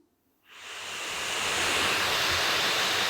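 Gaming laptop fans spin up into cooler boost mode, rising from silence into a loud, steady rushing whoosh of air that holds at full strength.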